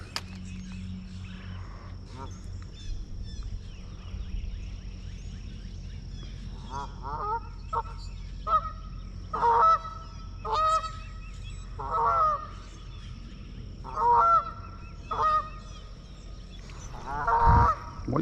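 Geese at a lake honk in loud, repeated bursts that come in clusters every couple of seconds, fairly close, over a quiet outdoor background.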